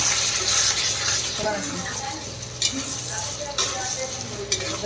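Mutton coated in curd is stirred in a brass kadai, giving a close, continuous sizzle with intermittent scraping strokes while a voice talks over it.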